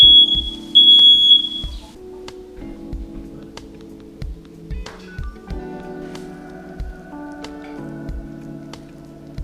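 Smoke alarm at a fishing camp gives a few short shrill beeps at the start, then fades out while low thumps and clatter continue at a steady pace.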